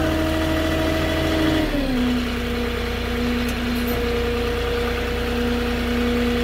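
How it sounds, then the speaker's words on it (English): A big off-road forklift engine runs steadily close by, idling with a low, even drone that shifts pitch slightly early on before settling into a constant hum; no talking. "It's still a big forklift."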